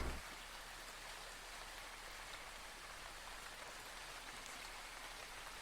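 Steady rain ambience plays as a sound effect, a dense continuous hiss of falling drops on surfaces at an even level throughout with no voices.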